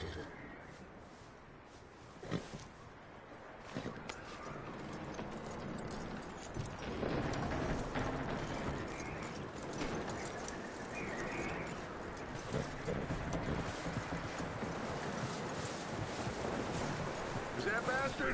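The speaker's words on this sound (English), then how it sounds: "That looks like a decent horse." Horse hooves clip-clop in a PS4 video game, a steady rhythmic trot within a dense mix of wind, birds and ambient game sound, with someone talking at times over it.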